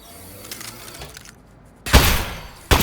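Aperture Science turret from Portal's Aperture Desk Job fires a loud, close burst of rapid shots lasting under a second, then a second burst starts abruptly, after quiet game ambience.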